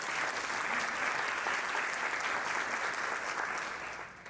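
An audience gives sustained applause for an honoured trustee at a downtown Oklahoma City gathering, thick steady clapping that stays level before tapering off at the very end.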